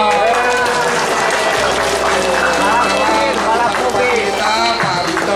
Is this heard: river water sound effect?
no